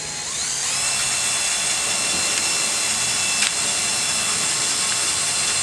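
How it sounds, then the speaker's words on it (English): A drill on low speed turns a chain mail ring jig, winding wire around a bar with a steady high mechanical whine. It runs close and continuous, with one brief click partway through. "Drill on low speed."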